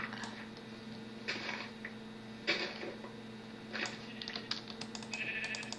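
Sheep in the Minecraft video game bleat faintly a few times over a quiet background hum, with scattered soft clicks of keys or mouse between the calls.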